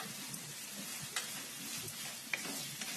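Onions with salt frying in a pan are stirred, producing a continuous soft sizzle with occasional faint spatula scrapes and clicks.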